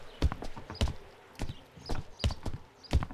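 Horse hooves clip-clop in the farming video game Farmer's Life, a steady, fairly loud rhythm of about one pair of hoofbeats every three-quarters of a second with no other sounds.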